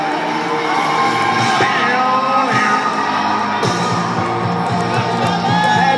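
A roller derby bout crowd cheers, whoops and yells in a large arena, a loud, continuous roar of many voices with scattered shouts rising above it throughout.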